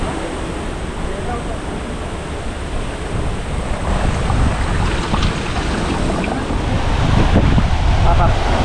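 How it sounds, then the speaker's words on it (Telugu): Heavy water pouring down at Gayatri Waterfall in Telangana, a dense continuous roar that swells slightly toward the end, with wind buffeting the microphone and no talk. "భారీగా పడుతుంది వాటర్ ఫాల్ అయితే."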